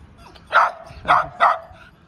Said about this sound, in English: This was Woody reacting to a dog just passing by, not even one of ours.